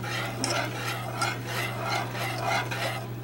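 A spoon stirs chunky turkey gravy in a pan over low heat, scraping in steady repeated strokes with a soft sizzle and a constant hum underneath, close and fairly loud with no talking.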